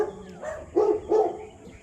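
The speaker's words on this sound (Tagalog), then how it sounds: "Ang laki ng aso yun, oh." A couple of deep barks from a large dog, somewhat distant, over faint outdoor background noise.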